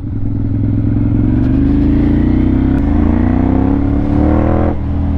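A 2014 Ducati Monster 696 motorcycle engine drones loud and close, its pitch climbing steadily under acceleration with a brief dip midway and a drop near the end.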